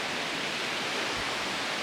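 Steady broadband rush of a waterfall on the Monk's Trail in Chiang Mai, Thailand, a constant close roar with no voices over it.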